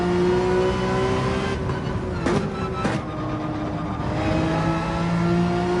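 A race car engine in Gran Turismo 7 drones at high revs, its pitch dipping briefly around a couple of sharp shifts before climbing again, loud and steady with no talking.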